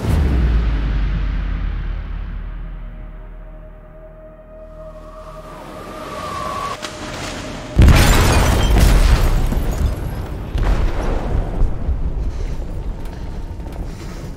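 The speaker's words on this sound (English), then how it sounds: "They detonated an explosive in the hold." An explosive detonating in a ship's hold in the video game Detroit: Become Human, a low rumbling ambience building to a sudden heavy boom, followed by a long roaring, crackling aftermath with metallic creaks.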